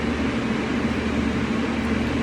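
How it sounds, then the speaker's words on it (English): An electric fan runs steadily in a warm room, a constant broadband whir with a low hum, unbroken and fairly loud, with no talking over it. "I'm sorry if you can hear the fan in the background because it's kind of hot where I am"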